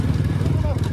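An NS 200 motorcycle engine runs with a throaty, pulsing low rumble on a dirt road, close and steady, with a voice talking over it.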